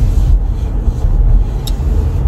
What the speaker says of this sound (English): It's a lot of traffic over here.